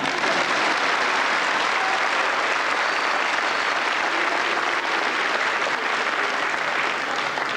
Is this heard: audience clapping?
yes